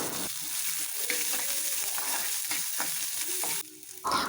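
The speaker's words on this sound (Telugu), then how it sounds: "ఇందులో చిన్నగా కచ్చేసుకున్న పచ్చిమిర్చిని ఆనియన్స్ని వేసుకుని వేయించుకోవాలి" Finely chopped green chillies and onions frying in a pan: a dense, close, continuous sizzle broken by light utensil clinks, dipping briefly before flaring up again at the end.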